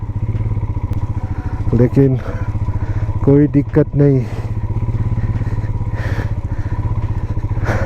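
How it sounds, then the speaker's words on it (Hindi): A heavily loaded motorbike grinds slowly through deep mud near a remote Ladakh village, its engine a steady close drone that swells in a few brief revs, with someone talking over it. "इसी कीचड़ में बाइक चलाना थोड़ा मुश्किल हो रहा है, क्योंकि बाइक पर लोड ज़्यादा है।"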